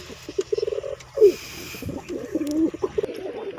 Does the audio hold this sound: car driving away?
no